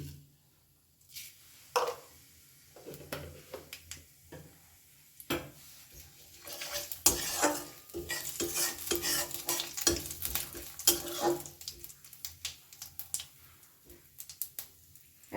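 Whole cumin seeds and bay leaf pieces fry in mustard oil, with a steady crackling sizzle and repeated scraping of a spoon stirring the pan, close up and with no talk.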